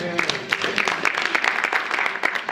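A church congregation claps in praise, a dense, lively patter of many hands filling the room, with murmured voices mixed in.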